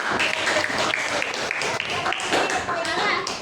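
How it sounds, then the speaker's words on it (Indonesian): A classroom group applauds two presenters at a school training session, with dense, steady hand clapping throughout and some voices mixed in underneath. "Berikan aplaus untuk keduanya."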